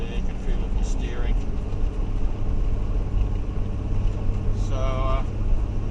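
A heavy vehicle drives slowly along a slippery wet bush track, its engine a constant low rumble heard close from inside the cab, with short higher whines.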